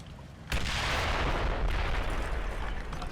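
A 150mm gun in the Combat Mission wargame lets off a sudden heavy boom that rolls out into a long, rumbling, noisy decay, loud and alone.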